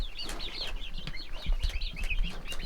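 Several Speckled Sussex hens cluck and chatter continuously nearby, overlapping calls with some scratchy bird chirps mixed in.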